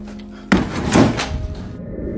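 A door, apparently moving on its own, shuts with a single sharp slam that rings out loudly against a quiet room, with a short echoing tail afterwards.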